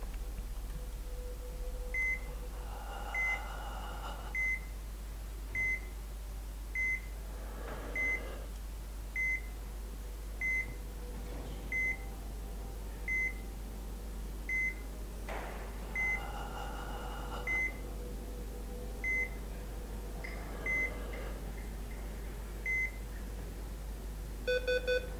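Repeated electronic beeps from a video game, short tones evenly spaced about one per second over steady background hum, with occasional louder tonal bursts between them.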